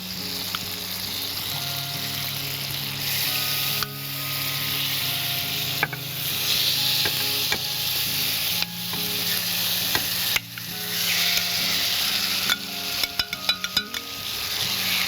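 Chicken pieces for butter chicken fry in oil in a pan, giving a continuous close sizzle and crackle broken by occasional light clinks and stirring sounds.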